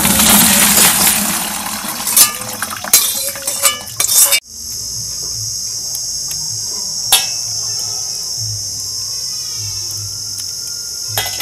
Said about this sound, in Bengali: কাঁকড়া ছাড়ানো শুরু করে দিয়েছি